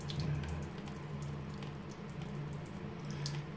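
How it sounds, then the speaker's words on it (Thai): Water is poured out of an instant cup of 7-Eleven stir-fried shrimp noodles, making a steady, continuous splash and trickle that runs the whole time with no talking. "เทน้ำทิ้งครับ"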